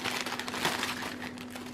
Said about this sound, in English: tear it open.